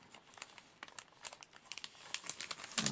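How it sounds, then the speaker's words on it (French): Thin plastic wrapping crinkles and rustles as a thick cardboard-backed canvas board is slid back into it, a series of close, light crackles that grow busier toward the end. "On va la remettre dans son plastique."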